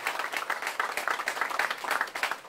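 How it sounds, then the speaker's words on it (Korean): Audience applause at a political party launch ceremony in Korea, a steady burst of clapping from a moderately sized crowd, fairly close, with no speech over it. "우리 큰 박수 한번 해주시죠."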